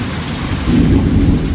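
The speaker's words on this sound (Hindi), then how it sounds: "तो देखिए जी पिछले 45 मिनट से कंटिन्यू बारिश हो रही है।" Heavy rain pours steadily in a hill village while a deep rumble of thunder swells up in the second half, loud and close, with no voices.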